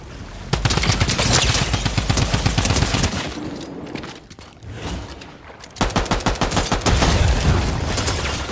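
Rapid bursts of Fortnite gunfire in a battle royale match, dense repeated shots rattling almost continuously, easing briefly in the middle before another loud volley resumes.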